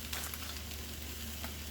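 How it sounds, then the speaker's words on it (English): Chopped onion and ground venison brown together in a pan for a hamburger casserole, giving a soft, continuous sizzle and crackle at low level with no talking. "we're going to go ahead and get it browning with the ground venison"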